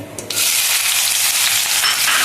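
Cumin seeds and chopped green chilies dropped into hot oil in a pan for kande pohe, bursting into a loud, close, steady sizzle that starts abruptly and holds without pause, no one speaking.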